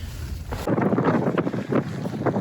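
A strong, cold wind blows across snowy Scottish Highlands mountains at −10 degrees, roaring loudly and steadily over the microphone with buffeting gusts, and no one speaks.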